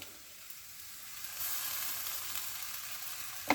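Vegetable oil sizzles steadily in a frying pan, a soft broadband hiss that swells slightly partway through, with a small clatter at the end.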